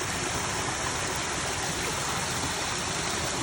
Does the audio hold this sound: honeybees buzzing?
no